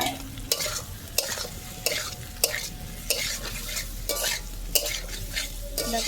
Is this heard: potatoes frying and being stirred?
yes